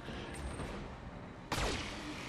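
A multi-weapon volley from a mech in the Battletech video game hits as one sharp, loud burst partway through, standing out against a faint background hum.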